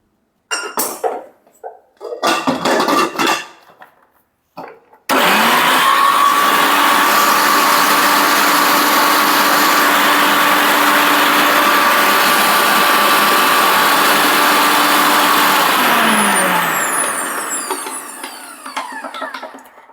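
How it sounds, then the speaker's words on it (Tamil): A kitchen mixer grinder pulverizing dry amla (Indian gooseberry) with no water: a few brief knocks and clatters, then a loud, steady high whir runs for about twelve seconds before the motor winds down and fades. "தண்ணி போடாமல் அரைச்சிக்கோங்க"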